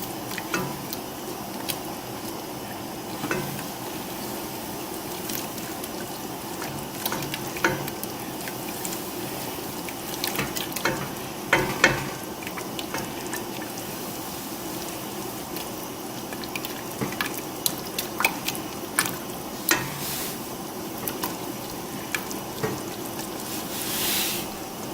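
Stirring four cups of granulated sugar into a pot of boiling grapefruit marmalade: a steady bubbling sizzle with scattered clicks and scrapes of the spoon against the pot, close and moderately quiet, with no talking.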